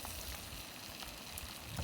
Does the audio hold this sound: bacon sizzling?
yes